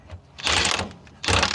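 Ratcheting wrench clicking as it turns a bolt loose on a brush cutter, with two bursts of dense mechanical clatter separated by a brief lull, close and moderately loud.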